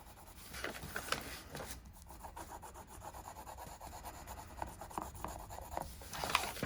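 Graphite being rubbed onto paper by hand: a soft, continuous scratchy rasping in uneven strokes, faint and close, with no voices.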